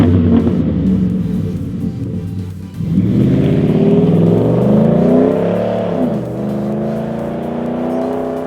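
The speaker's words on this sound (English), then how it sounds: "Our last moderate kit is the Flowmaster American Thunder system." A Ford F150 with a 5.0L V8 and Flowmaster American Thunder cat-back exhaust rumbles steadily up close, then revs and accelerates with a rising, throaty roar that eases back into a deep, loud drone.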